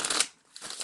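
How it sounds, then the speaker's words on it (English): A deck of playing cards gets shuffled by hand, two quick riffling bursts separated by a short pause, close and fairly soft. "take the two of diamonds and shuffle it in the deck"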